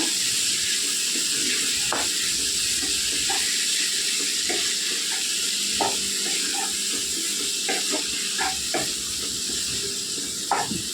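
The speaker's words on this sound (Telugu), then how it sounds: "ఇప్పుడు నూనెలో మగ్గనివ్వాలండి చుక్కకూర" Sorrel greens (chukkakura) sizzle and steam in hot oil in a pan, a steady bright hiss with scattered pops and soft stirring scrapes throughout, close and moderately loud with no talking.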